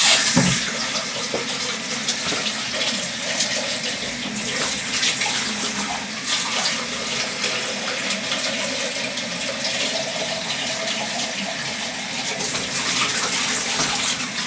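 A continuous rush of water rinsing inside a whiskey barrel, splashing loud and steady throughout with no speech.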